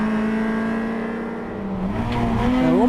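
Onboard sound from a Toyota MR2 race car at Silverstone's International circuit, with a steady loud engine drone that dips slightly as the car lifts, then rises again as it accelerates hard, close and continuous.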